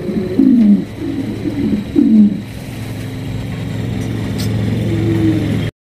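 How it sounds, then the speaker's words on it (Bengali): Fancy pigeons coo in a small market setting, several soft low coos close by in the first half, then a passing engine hums in the background. "দর্শক এখানে রয়েছে আপনার মডার্না কবুতর আছে, শৌখিন কবুতর আছে"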